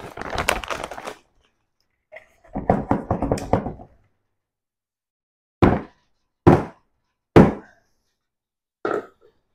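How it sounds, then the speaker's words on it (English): A DI water purifier vessel for pure-water window cleaning, filled with resin, is tapped on the ground: a burst of rattling and shuffling, then four separate dull thunks spaced about a second apart, close and fairly loud. "I'll even give it a gentle tap on the ground. That's so that the resin media settles down."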